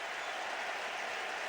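Stadium crowd at a 2009 World Baseball Classic game between Team USA and Team Canada, applauding after a walk: a faint, steady wash of distant clapping and cheering with no distinct voices.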